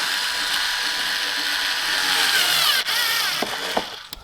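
Ratchet clicking steadily and close by while tightening the clamp on a car's cold air intake filter, ending with a few sharper metallic clicks and knocks.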